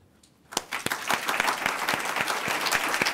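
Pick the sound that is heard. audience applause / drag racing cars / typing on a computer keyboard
audience applause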